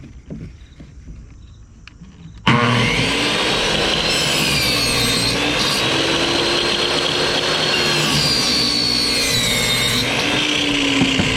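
A trash-picked miter saw with a dull blade cuts through a pallet board, starting abruptly after a quiet moment into a loud, steady motor whine and rasping wood-cutting grind that wavers slightly in pitch as the blade bites.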